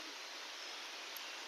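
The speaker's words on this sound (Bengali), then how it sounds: "আরো একটা ঝর্ণার আওয়াজ শুনতে পাচ্ছি" A distant waterfall near mountain homestays gives a steady, soft broadband rush, continuous and faint with no other sounds.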